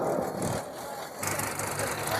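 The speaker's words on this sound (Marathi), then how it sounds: "ऊसाने भरलेल्या दोन ट्रॉल्या ट्रॅक्टर आता ह्या वजन काट्यावर येत आहे" A tractor hauling two trolleys loaded with sugarcane rolls onto a weighbridge at a sugar factory, its engine idling and rumbling steadily at close range, growing slightly louder and rougher in the final second.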